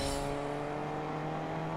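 A car drives in Fortnite Creative, a steady engine drone holding a constant pitch, close and continuous with no talk over it.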